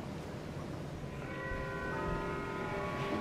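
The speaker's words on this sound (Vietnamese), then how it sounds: "tiếng chuông cũng vừa báo động" A bell rings out partway through, its sustained ringing tones rising over a steady, noisy background hum and lingering to the end, with no talking.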